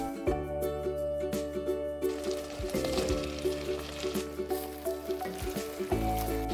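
Medium-sized cauliflower pieces fry over medium heat with potatoes and onions in a pan, giving a continuous close sizzle with soft spatula scrapes and occasional wet squishes as the pieces are turned.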